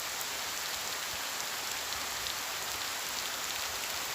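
Rain falls outdoors as a steady, dense patter that stays even and continuous throughout, with no voices.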